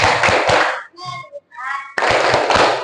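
A classroom group claps a rhythmic concentration clap with bursts of hand claps, separated by a short chanted call in between.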